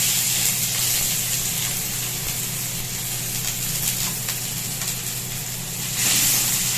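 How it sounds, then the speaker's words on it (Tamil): Onions sizzle in hot oil for mutton uppu kari, a steady close frying hiss that stays even throughout and swells slightly near the end. "கொஞ்சமா எண்ணெய் விட்டுக்கிறேன். இப்போ வெங்காயம் சேர்க்க போறேன்."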